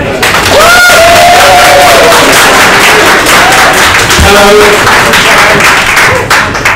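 A live audience at a talk bursts into loud, dense applause, many hands clapping continuously with scattered cheers and voices rising over the crowd noise.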